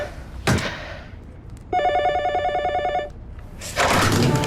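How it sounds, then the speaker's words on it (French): An old-style telephone bell rings in one sustained burst of a little over a second, close and loud, framed by dull thumps and knocks before and after. "Comme ce putain de téléphone."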